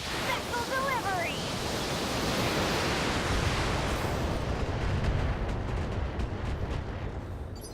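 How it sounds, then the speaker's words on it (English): Missiles launch at a turret in the BattleTech video game, a loud roaring wash of rocket and explosion noise that swells and holds for several seconds after a brief chirpy electronic flutter. "which I'm going to go ahead and fire missiles at. Missile delivery."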